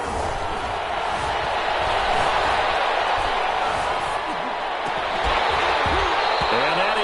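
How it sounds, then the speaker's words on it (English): A stadium crowd in a football video game broadcast on PS4 gives off a dense, continuous roar of cheering that swells slightly and never drops away. "the crowd getting into it as we come up on a big 3rd down"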